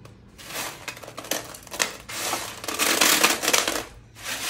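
Thin dried mango slices snapped and crumbled by hand, giving a run of close, dry crackling and brittle crunches with no talk.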